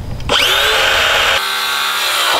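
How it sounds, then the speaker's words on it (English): A power drill whirs loudly, spinning up and driving a 3-inch screw into wood for a worm bin, its pitch shifting briefly before winding down. "when you're drilling these screws in, these are 3-inch screws"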